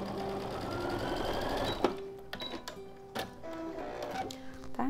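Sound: sewing machine stitching fabric pieces of an owl

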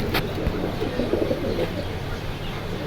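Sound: pigeons at a market

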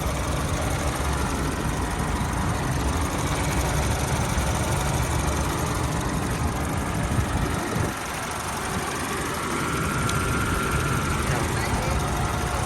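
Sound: Honda CR-V 2.4 engine idling

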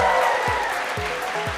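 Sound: round of applause at festival

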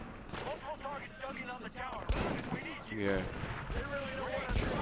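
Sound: gunfire in video game Medal of Honor 2010

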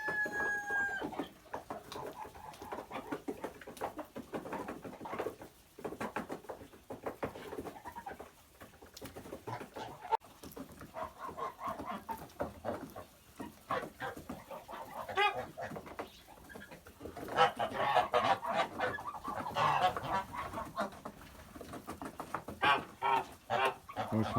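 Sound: rooster and chickens clucking

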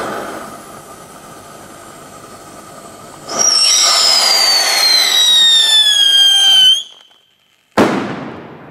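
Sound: Scream 5S firecracker exploding

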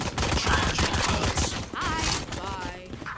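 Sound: gunfire in the video game Valorant

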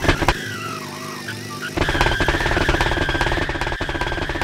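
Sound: Isuzu D-Max car engine at top speed in Roblox video game

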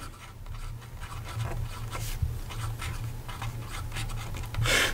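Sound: Platinum 3776 Kawaguchi fountain pen with 14K medium nib writing

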